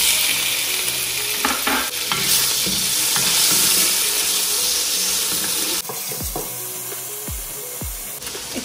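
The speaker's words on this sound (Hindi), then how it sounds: "उसके फिर हमने डाली अपनी ये चिकन" Chicken frying in a hot pan for vegetable fried rice, a loud, dense sizzle with knocks and scrapes of stirring that thins out in the last few seconds.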